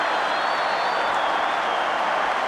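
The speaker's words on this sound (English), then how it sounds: "That's got the crowd going." A crowd at a New Zealand versus West Indies T20 international cricket match cheers and applauds after a bowled wicket, a sustained, loud wash of clapping and roaring with a faint whistle riding over it.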